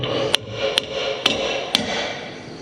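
A hammer taps a trailer hitch plate into place with four evenly spaced, sharp metallic strikes, close and clear over low background noise.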